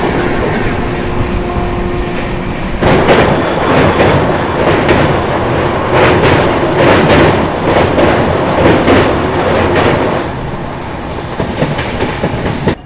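A superfast express train on an Indian rail line passes close by, rising into loud rhythmic clickety-clack of wheels over rail joints that holds for several seconds, then fades back toward a quieter rumble.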